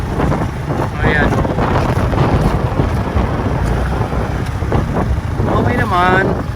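Steady wind rushes across the microphone in strong, continuous gusts on the Malabon Megadike in Malabon City, with faint voices and water-like noise underneath throughout.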